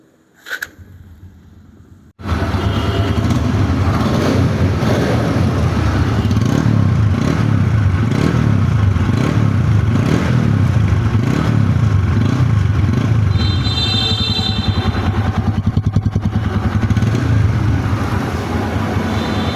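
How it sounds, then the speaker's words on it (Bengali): A TVS Apache 160 motorcycle starts up after a brief quiet moment, then its engine and silencer run at a steady, loud idle with a rhythmic exhaust throb close by, with no talk. "বাইক কিন্তু এখনো স্টার্ট, ইঞ্জিনের আওয়াজ দেখেন, সাইলেন্সের আওয়াজ"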